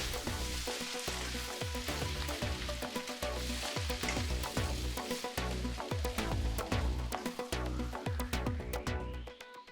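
Pancit bihon with scallion is stirred in a hot pan, giving a steady loud sizzle broken by rhythmic scraping and tossing strokes throughout.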